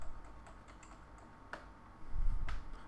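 Computer keyboard keys tapped during After Effects work, a loose run of light clicks with a couple of sharper presses, close by with a low rumble underneath, no speech.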